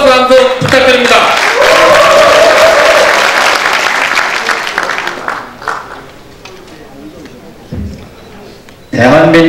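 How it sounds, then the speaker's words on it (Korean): A crowd at a regional councillors' rally for decentralisation claps loudly and steadily for several seconds, thinning out into scattered claps, with a voice speaking briefly at the start and again at the end. "여러분 큰 박수 한번 부탁드립니다."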